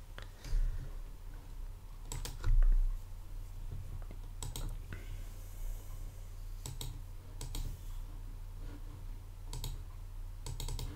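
Keystrokes on a computer keyboard come in short, separated bursts of clicks, with a low steady hum underneath and no voices.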